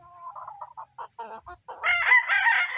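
A broodstag rooster clucks in short separate calls, then breaks into a loud, close crow near the end, with faint background noise and no speech.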